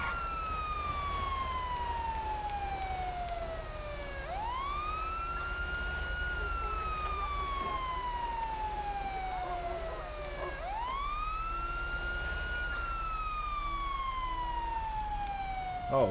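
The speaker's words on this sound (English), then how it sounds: "Let me turn my siren off." A wailing fire engine siren in the video game GTA 5 sweeps slowly down and back up in repeated long cycles, loud and continuous over a low engine rumble.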